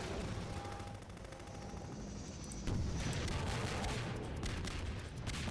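Bazooka fire and explosions in the video game Garry's Mod, a dense, loud stretch of booming gunfire that thickens into a heavier blast partway through.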